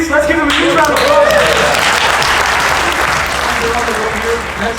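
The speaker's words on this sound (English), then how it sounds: "Let's give them a huge round of applause." An audience at a business leadership keynote breaks into loud, sustained applause, a dense wash of clapping that fills the room, with a voice talking over the start.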